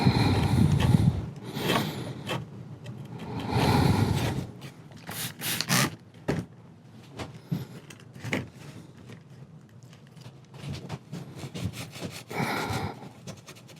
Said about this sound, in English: I'm using a product called Crud Cutter. It works like really good for cleaning the old oils and wax.